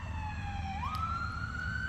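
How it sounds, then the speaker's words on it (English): An ambulance siren wails past up close, its steady tone rising in pitch partway through over a low rumble of traffic, with no voices. "ambulance or whatever to go by."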